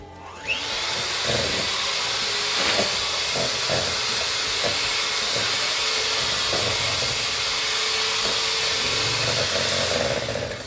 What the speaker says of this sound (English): That hand mixer is not doing what I expected it to be doing.